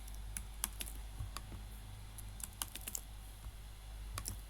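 A computer keyboard being typed on with scattered, quick key clicks in short bursts. The clicks sit over a low steady hum and are fairly faint and close.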